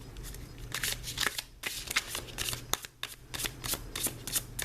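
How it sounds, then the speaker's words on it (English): A deck of Prairie Tarot cards is given a quick riffle shuffle, with close, crisp bursts of flicking and snapping card edges separated by brief pauses. "And I'll do a real quick shuffle."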